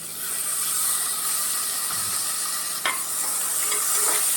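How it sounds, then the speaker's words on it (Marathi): Finely chopped tomato with curry leaves being sautéed in a pan for a whole masoor pulao, giving a continuous close hissing sizzle with a few brief stirring scrapes. "आता हा पण टोमॅटो मोठं जरा थोडंसं परतून घेऊया"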